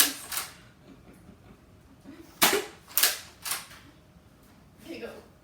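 Nerf gun fired at cups: a few sharp snapping shots spaced irregularly, with a pair of quick pops near the middle and a softer one at the end, close and fairly loud over a quiet room.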